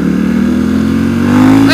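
A Ducati XDiavel cruiser motorcycle with a 150-horsepower engine accelerates, a loud, close engine note climbing steadily in pitch over under two seconds.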